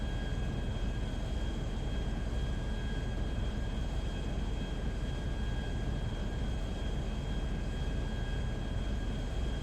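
A steady, loud airplane engine drones without a break in GTA V flight, a dense broadband roar with faint tonal whines riding on top, constant and close for nearly ten seconds.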